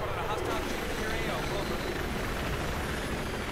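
A steady, loud rotor-and-engine drone from a helicopter in the video game Battlefield 3 fills the scene without a break, with faint voices beneath.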